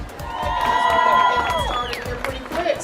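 A large crowd of about 50,000 at a women's march protest in Austin, gathering near Congress Avenue: a loud, continuous mass of voices with whoops, cheers and rising shouts throughout.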